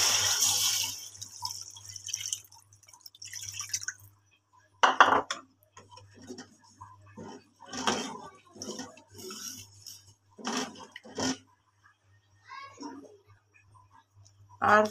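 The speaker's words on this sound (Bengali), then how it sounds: "আমি পরিমাণ করে কিছু পানি দিয়ে দেব।" Measured water goes into frying rice for egg pulao, then a string of clinks, taps and scrapes of utensils on the pan follows in irregular bursts with quiet gaps between.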